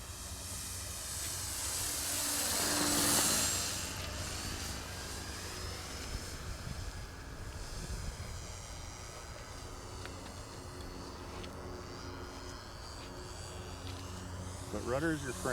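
A Hobbyking Auto G2 V2 radio-controlled gyrocopter flies at about half throttle on a slightly windy day, its buzzing motor and whirring rotor swelling as it passes near, then settling into a steady, fainter drone with some wind noise.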